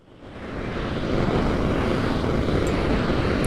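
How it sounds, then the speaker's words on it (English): QUANTA 2 granular synth on iOS sending its noise oscillator through the granular oscillators, producing a dense, steady rushing hiss that swells in over the first second and holds, loud and alone. "it's going to send that noise oscillator through the granular oscillators"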